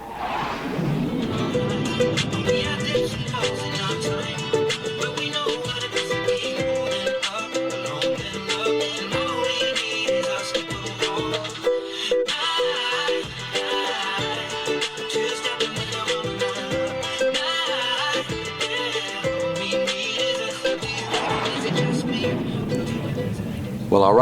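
A ukulele is strummed in easy chord patterns, playing along to a song, steady rhythmic strums mixed with the song's recorded backing, fairly quiet and continuous, with no talk over it.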